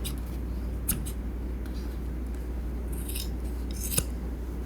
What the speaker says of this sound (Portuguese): vou cortar ela aqui, ó, todos os fios, cortar mais ou menos aqui da mesma altura